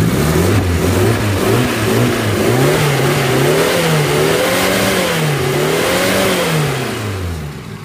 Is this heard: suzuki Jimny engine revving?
yes